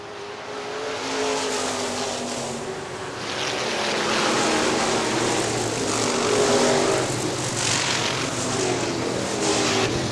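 IMCA modified race cars racing at Hartford Speedway Park in Hartford, Michigan, loud engines roaring and droning as several cars pass, with rising and falling pitch as they sweep by the listener.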